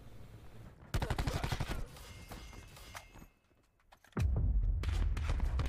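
Bursts of Black Ops 4 multiplayer gunfire, a loud rattling volley, then a short lull before another heavy burst of shots, with no voices.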